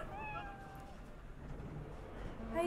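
An in-game cat in Cyberpunk 2077 gives a short, clear meow near the start, followed by low game ambience with a voice in the background.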